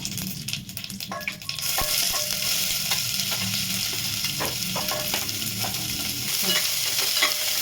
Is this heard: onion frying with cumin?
yes